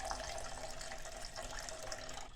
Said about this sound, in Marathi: पाणी घालून घेऊ.